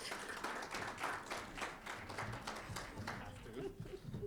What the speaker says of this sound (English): A quick round of applause for Amir.